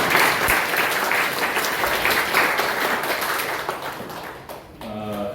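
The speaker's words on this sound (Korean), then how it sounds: "박수를 치시려면 그냥 확실하게 쳐주세요." A seminar audience at a Korean Christian council meeting gives a full round of dense applause that stays loud for several seconds, thins out, and then gives way to a voice starting to speak at the very end.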